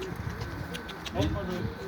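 Soft, low pigeon coos sound close by over faint background noise, with a slightly louder cooing burst partway through.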